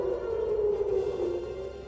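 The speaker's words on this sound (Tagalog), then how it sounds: "Biglang umalingaw-ngaw ang tunog ng sirena, palatandaan na may putukan na naman ng baril." Warning siren sounding in Jerusalem, a steady wailing tone held continuously at moderate level, heard alone with no voices.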